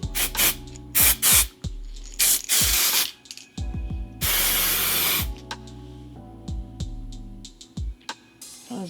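Several loud, close hissing bursts of hairspray from an aerosol can, some short and some held for about a second, with clicks of the nozzle between sprays.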